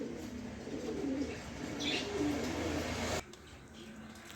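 A pair of large racing pigeons coo steadily against a busy loft background, with a brief higher call midway before the sound drops off abruptly.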